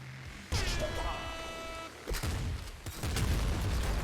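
A blaster-type weapon in Nuclear Throne fires a mini airstrike, giving a burst of bright synthetic tones followed by layered explosive booms and crackling impacts, fairly loud and continuous through the end.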